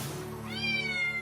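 A cat lets out a single clear meow, rising then sustained and close, heard alone without talk.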